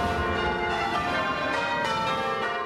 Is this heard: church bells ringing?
yes